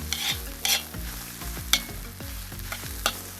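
Carrot and onion lightly salted and stirred in a kazan, spatula scraping the metal in a series of distinct strokes over a steady low sizzle, close and without talk.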